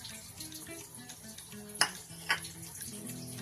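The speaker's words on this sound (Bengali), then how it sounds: "এবার দিয়ে দেব পেঁয়াজ কুচি" Chopped onion hits a pan of frying amudi fish curry with potato and eggplant, giving a soft, steady sizzle broken by two sharp utensil clinks against the pot.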